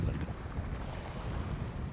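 Strong wind of about 30 km/h buffets the microphone on a lakeshore during perch fishing, a loud continuous low rumble and roar with a faint wash of water behind it and no talking.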